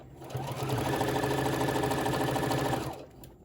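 A sewing machine runs steadily, stitching seams in fabric for 11 inch bowl koozies, one close, continuous mechanical whir that starts up and stops after about three seconds.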